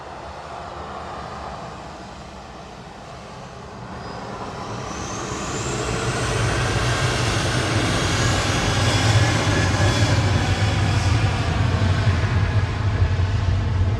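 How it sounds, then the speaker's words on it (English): A Ryanair Boeing 737-800 jet departing Manchester Airport starts as a distant hum, then swells into a loud, sustained engine roar that rises in pitch and holds strongly to the end, with no voices. "Ryanair lined up from Victor Alpha now."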